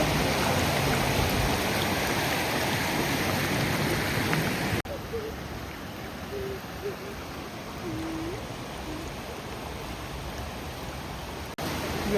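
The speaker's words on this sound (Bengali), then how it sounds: "এখান থেকে ঝর্ণা এসে মিশছে জলে" A mountain stream flows into a river in a canyon near Grindelwald in the Swiss Alps, producing a dense, steady rushing roar close by, with faint brief voices barely surfacing midway.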